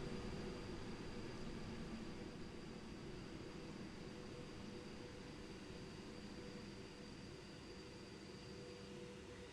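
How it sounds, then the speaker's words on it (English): A Pendolino train idles at Coventry station on the West Coast Main Line in the Train Sim World 2020 game, giving a steady low rumble with a faint constant whine. No one speaks. "It is the Armstrong Powerhouse sound pack for Pendolino, yes it is."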